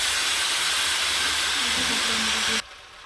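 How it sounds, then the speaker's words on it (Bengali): A pressure cooker cooking chana dal lets out a loud, steady hiss of escaping steam that cuts off abruptly near the end, leaving a quieter background. "দেখে প্রেসার কুকার ছোলার ডাল দিয়ে দিচ্ছি"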